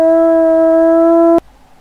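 A single sustained wolf howl from the video game WolfQuest, a clean loud tonal call held for over a second before cutting off abruptly into near silence.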